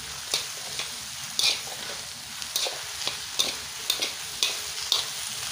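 Stir-fried noodles with onion being stirred in a frying pan that is starting to scorch, giving a low steady sizzle with regular scraping strokes roughly once a second, close up and with no talk.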